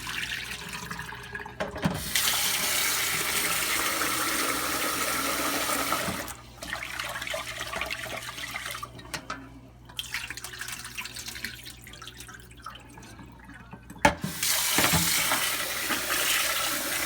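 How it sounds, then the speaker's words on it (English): Tap water runs into a sink while rice is rinsed, gushing in bursts that stop and restart with brief gaps and splashy changes, fairly close and with no talking. "I'm just going to use the tap water, okay?"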